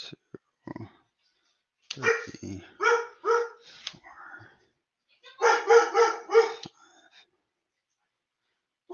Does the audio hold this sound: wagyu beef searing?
no